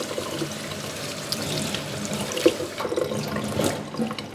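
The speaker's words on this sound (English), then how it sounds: "so I'm going to do a quick wash on this one." Kale rinsed in a bowl under a running kitchen tap: a continuous mid-level splashing stream with brief louder sloshes and clatters toward the end.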